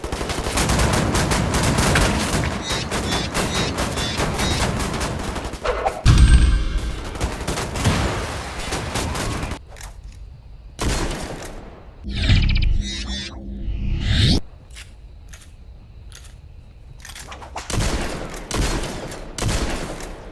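Shotgun blasts fire in a first-person shooter video game, loud booming shots spaced out irregularly over about twenty seconds with reload clatter and game effects between them, no talk.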